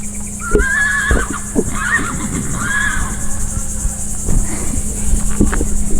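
Wild horses on Cumberland Island, Georgia, whinny and neigh several times over a constant chorus of crickets, with occasional thuds and hoof sounds nearby.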